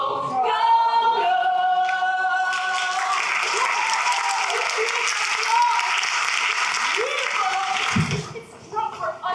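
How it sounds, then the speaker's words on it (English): An audience claps in a sustained round of applause, rising after a sung passage and carrying on under voices before tapering briefly near the end. "Oh, I do love applause."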